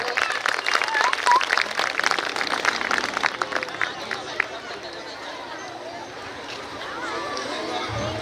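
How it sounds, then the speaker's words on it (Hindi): A school event audience bursts into loud, dense applause with crowd chatter mixed in. The clapping slowly thins and settles into a softer murmur. "कृपया जोरदार तालियां हो जाए।"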